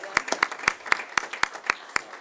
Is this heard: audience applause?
yes